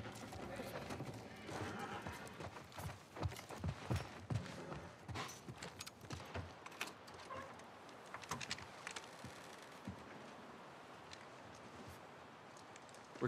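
Horse hooves clopping in The Last of Us Part 1, an irregular run of hoof strikes mixed with game ambience, fairly quiet and at mid distance.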